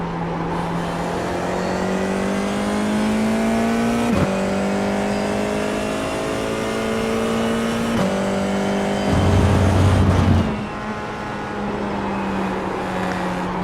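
An FIA F4 race car engine in iRacing drones steadily at high revs with a sustained buzzing tone, briefly dipping as the driver shifts, then climbing again, loud and close throughout with no talk.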